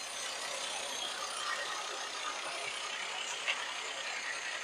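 A 2012 Maruti Suzuki Alto K10 petrol car idles with a steady, even engine hum and a faint mechanical ticking, close by and alone, with no talk.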